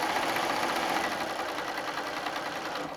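A sewing machine stitches pieced quilt sections in a steady, fast mechanical whir with an even rhythmic needle chatter, close and continuous for the whole stretch, with no talking.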